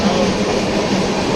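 Steady broadband rumble of a moving passenger train heard from inside a coach, with continuous low wheel and track noise filling the background without clear breaks.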